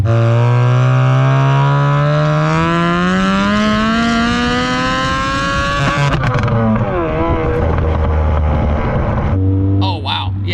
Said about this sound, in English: rev it all the way out and then let off the gas, it does this very organic burble